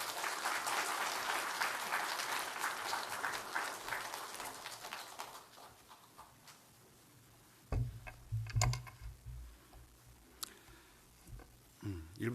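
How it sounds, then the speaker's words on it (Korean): A church congregation claps to welcome a missionary to the front during a Sunday service, the applause loud at first and fading out after about five seconds, followed by quieter room sounds and a few thumps and brief bits of speech. "우리 나오실 때 박수로 환영하도록 하겠습니다."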